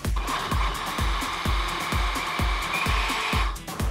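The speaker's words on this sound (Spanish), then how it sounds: "Procedemos a tapar la licuadora y batimos." A countertop blender mixes tangerine cake batter, its motor a steady loud whir with a regular thumping pulse from the churning contents, then winding down at the end.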